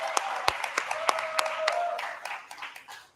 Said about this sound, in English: y'all clap for Jasmine.